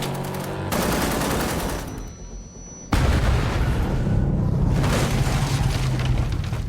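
Gunfire during a movie vehicle chase: dense, sustained bursts of rapid shots under a loud roaring background, with a short quieter gap partway through before the barrage resumes even louder.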